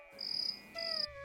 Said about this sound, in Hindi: कहीं झींगुरों की आवाज